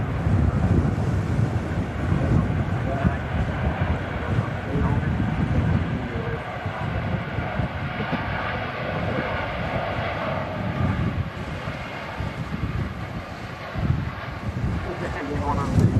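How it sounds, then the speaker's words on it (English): An airliner at Manchester Airport in strong gusting wind, a broad continuous engine roar mixed with heavy wind buffeting on the microphone, with someone talking over it throughout. "And we got two aircraft on approach, and the Virgin Atlantic A330 heading out."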